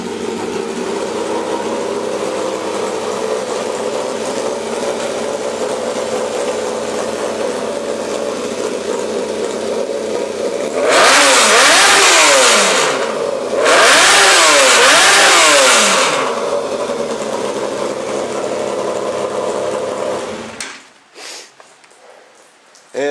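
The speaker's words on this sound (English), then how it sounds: "And I'll show you here just how loud my exhaust actually is." A motorcycle idles with a throaty exhaust rumble, then revs hard twice in loud surges before the engine cuts off.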